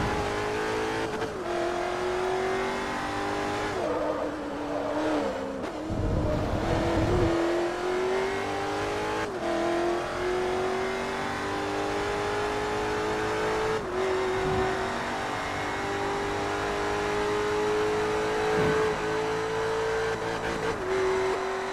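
A race car engine in the Forza Motorsport 3 racing video game drones steadily and loudly, its pitch climbing through the gears with brief drops at each shift and some tire noise, and no talking over it.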